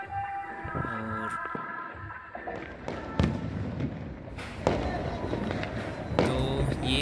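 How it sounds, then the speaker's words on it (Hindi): Fireworks and firecrackers burst all around during Diwali night in Dumka, Jharkhand, with sharp cracks and thumps at irregular intervals, some close and loud, under a steady hum of background music and crowd noise. "तो ये हो रहा है आतिशबाजी, चारों तरफ से पटाखे फोड़े जा रहे हैं"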